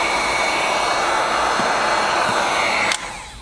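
Heat gun blowing steadily while heat-shrinking window tint film on a car's driver's window, a loud, continuous airy roar that cuts off abruptly near the end.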